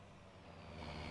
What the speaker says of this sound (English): I think I hear a truck coming.